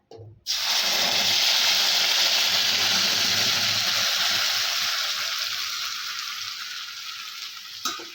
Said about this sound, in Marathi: तीन टमॅटो दो एक कांदा आणि थोडेसे काजूगर टाकून हे असं वाटण तयार केलेलं आहे याचीच आपण फोडणी देणार आहोत